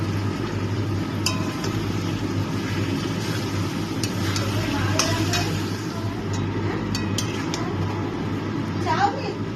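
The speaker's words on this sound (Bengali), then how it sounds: "বাঁধাকপিটাকে এবার ভালো করে একটু ভাজা ভাজা করে নেব।" Steamed, salted cabbage fries in a pan for a vegetarian dish, a low steady sizzle broken by scattered utensil scrapes and clinks as it is stirred.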